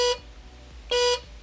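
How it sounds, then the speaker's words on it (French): Two short horn blasts from a 2012 Gilera SMT motorcycle with a seized horn, each a harsh, buzzy honk about a fifth of a second long, separated by a pause with only a low hum in between. "c'est le klaxon. Écoutez bien."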